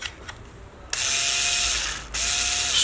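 A Bosch IXO cordless screwdriver drives a screw with a loud motor whir and a ratcheting clutch in two bursts, the first about a second long and the second starting after a brief pause, with no talking.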